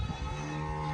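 A young sheep bleating at a livestock market, one short, close, sustained harmonic call.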